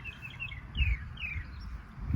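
A small bird calls outdoors among oak trees, a few thin descending chirps spaced through the clip, fairly faint over low rustling and background noise.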